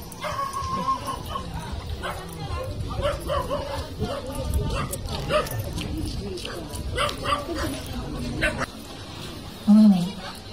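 A stray dog in a village street barks in short yips and whimpers, then gives a louder yelp near the end, under ongoing chatter of people nearby.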